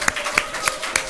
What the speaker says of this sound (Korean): 일어나서 박수를 한번 격려하겠습니다